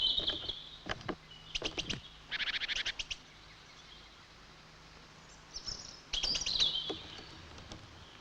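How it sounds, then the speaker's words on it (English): Great tits and blue tits jostle at a bird feeder, giving bursts of sharp, rapid chirps and scolding calls in several clusters, fairly close with quiet gaps between. "Even among the tits themselves, there's a good deal of threatening and posturing as they jostle for a good position."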